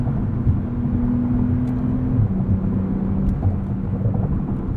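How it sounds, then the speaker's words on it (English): A 2021 Porsche 911 Turbo S with sport exhaust drives at night, its exhaust giving a steady, deep droning rumble heard from inside the car, continuous and fairly loud with no talking. "The rest of the sound system just lies in that sport exhaust, and I think it just sounds fantastic."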